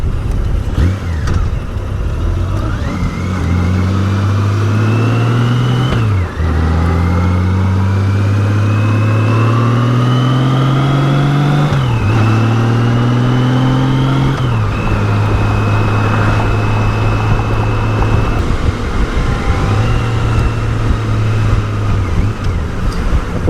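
Engine of a 2002 Honda GL1800 Goldwing motorcycle pulling hard on the road, a steady low drone sweeping upward through several long rising runs, with wind rush over it and no talk.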